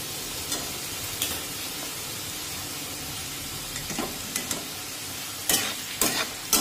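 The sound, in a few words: chopped onions roasting in a pan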